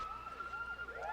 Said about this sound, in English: I heard the alarm and came running.